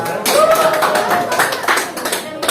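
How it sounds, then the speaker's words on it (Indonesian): Group clapping in a school classroom after a numeracy activity, a dense run of claps with a voice calling out over it. "Tepuk tangan untuk kita semua."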